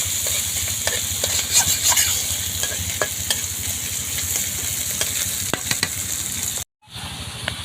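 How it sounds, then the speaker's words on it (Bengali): Fish frying in a pan in a home kitchen, a steady dense sizzle with crackling pops that holds throughout, then cuts out briefly near the end before resuming. "এবার আস্তে আস্তে মাছটা ভাজা হবে।"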